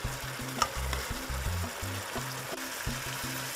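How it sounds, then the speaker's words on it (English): Tilapia fillets simmering in a pan of stewed sauce give a steady bubbling sizzle, with soft spoon scrapes and one sharper knock as sauce is ladled over the fish. "Spoon the sauce over the tilapia fillets so they get all nice and covered with all those great"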